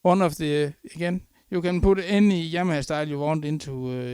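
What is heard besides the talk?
No everyday noise stands out behind the speech.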